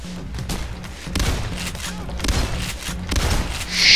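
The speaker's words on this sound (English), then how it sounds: "Shotgun battle." Shotgun blasts trade back and forth in a Payday The Heist firefight, several booming shots spaced over a noisy mix of game sounds.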